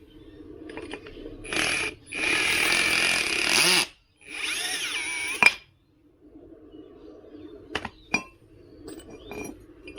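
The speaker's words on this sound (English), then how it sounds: "I'm gonna try and drill it out." A power drill works plastic out of a hole on a Veteran Sherman electric unicycle, with two loud sustained bursts of drilling followed by quieter scraping and a few sharp metallic clinks.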